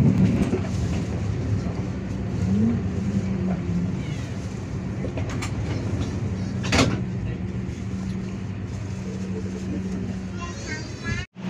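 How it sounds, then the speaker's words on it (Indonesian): Aboard the KA Bengawan express train as it sits at Purwokerto station, a steady carriage rumble and hum fill the space, broken by a sharp clack, with muffled talk in the background. "KA Bengawan sudah sampai di stasiun Purwokerto Kabupaten Banyumas jam 11:29 menit"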